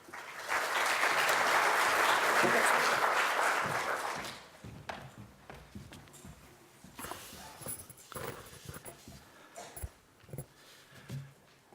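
A keynote audience at the C20 Summit claps to welcome a speaker to the stage, a full dense burst of applause for about four seconds that fades into footsteps, taps and stage shuffling.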